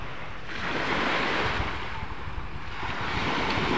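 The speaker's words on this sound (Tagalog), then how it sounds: "malalaking alon dito guys" Large ocean waves roll onto the shore of a beach near Samal Island, a steady, loud wash of surf with wind rumbling across the microphone and no voices.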